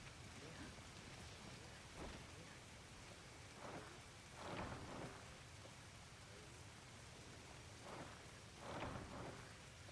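Steady rain in a video game pours down with several low rumbles of thunder rolling in, a dense, continuous wash of sound with no voices.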